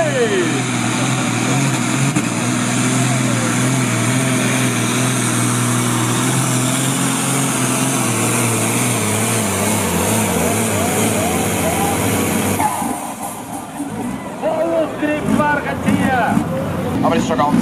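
A tractor-pulling machine in a 3.5-tonne sport class run roars at full power, its engine note high and sustained with rising and falling harmonics, loud and close for most of the stretch before easing near the end, with a voice talking over it.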